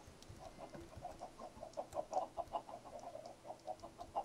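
Repeated clucking from chickens in a Minecraft-style pixelated survival game, a steady run of short, evenly paced bursts that grow a little louder midway, close and clear over a quiet backdrop.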